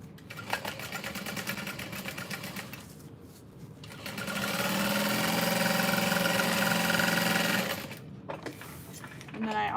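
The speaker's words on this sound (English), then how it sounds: "always like to make sure I'm back stitching at the top of all of those seams" A domestic sewing machine back-stitches the top of the seams on a fabric tote bag, running in short whirring bursts before a louder, sustained stretch of steady mechanical stitching that stops near the end.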